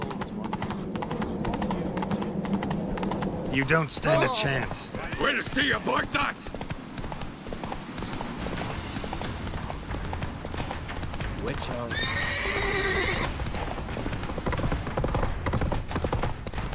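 Horse hooves clip-clopping at a gallop in the video game The Witcher 3, a rapid rhythmic pounding running under game music and voices exchanging lines, with a brief whinny partway through.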